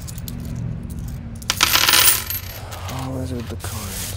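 Coins dropping onto a surface in a burst of metallic clinks, loud and close, over a low steady background hum with no talking.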